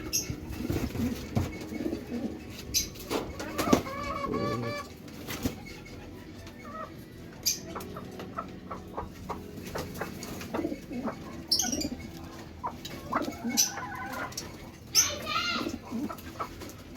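A pet pigeon being fitted with a leg ring, with soft low cooing and bird calls coming and going close by while a person talks and handles it.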